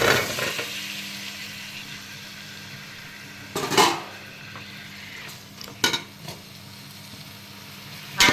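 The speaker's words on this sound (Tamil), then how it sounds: "நறுக்கி வச்சுட்டு அதை வந்து நல்லா வதக்கிக்கலாம்" Six chopped tomatoes sautéing in a pan for tomato rice make a soft, steady sizzle, broken by a few clear clanks of a spoon stirring against the metal pan.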